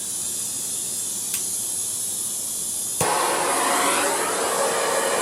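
Gas torch flame heating a seized wheel lug nut, a steady close roaring hiss that grows louder and fuller about three seconds in, with no talking.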